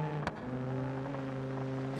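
A car engine in the video game BeamNG.drive runs as a steady, moderately quiet hum, with a brief knock near the start and no talking.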